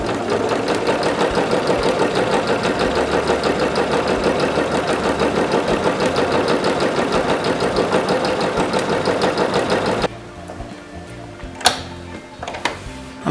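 A sewing machine runs fast and steady while stitching practice lines on fabric, a rapid even whirring rhythm for about ten seconds, then it stops and a few faint handling clicks follow.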